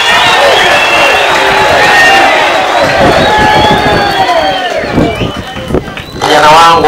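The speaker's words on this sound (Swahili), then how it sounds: "tuwapigie makofi wakufunzi wetu." A crowd at a JKT basic military training graduation claps for the military trainers, applause and cheers rising over loud voices and chanting, strongest in the middle stretch.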